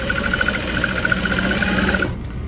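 A sewing machine runs steadily for about two seconds while stitching piping onto a duffel bag, with a rapid, even mechanical whir that cuts off abruptly near the end.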